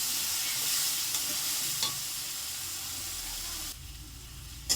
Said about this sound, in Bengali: একসঙ্গে সব মিশিয়ে দিয়ে আমি ভালো করে কষাবো।